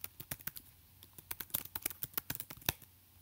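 Quick, light clicks of a computer keyboard as a spreadsheet cell label is typed, an irregular close patter of keystrokes at low volume with no voices.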